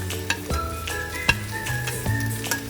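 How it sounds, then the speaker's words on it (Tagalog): Ingredients for laing frying in a hot pan as they are stirred toward golden brown, with steady close sizzling, periodic scrapes and clinks of the spatula against the pan, and no talking. "halu-haluin mo lang hanggang sa mag-golden brown"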